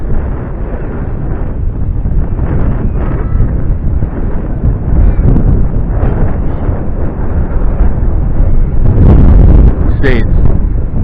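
Strong gusty wind buffets a microphone outdoors during a drone flight, rough low roaring surges that swell and fade in uneven waves, louder toward the end, with a brief high whine near the close.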